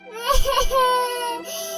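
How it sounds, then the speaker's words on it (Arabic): A girl character in the Roblox Brookhaven game cries from hunger in a short, close sobbing wail with stuttering catches at the start that trail into a drawn-out whimper. "انت سامع صوت عياط؟"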